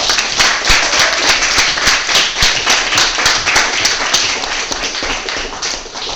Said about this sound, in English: Well, let's give Pablo a round of applause,